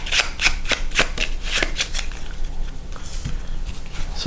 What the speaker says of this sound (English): I'm gonna shuffle this one back into the collection deck